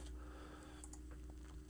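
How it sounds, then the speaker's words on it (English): A deck of Fortress America board game cards is shuffled, giving soft quick papery riffles and light clicks at close range over a low steady hum, with no talking. "Flip the whole deck somehow, so let's give it a shuffle."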